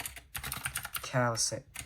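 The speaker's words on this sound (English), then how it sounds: "my keyboard's like insanely loud" Rapid clattering keystrokes on a loud, cheap $20 computer keyboard, typed close up in bursts with brief pauses, alongside a short voice.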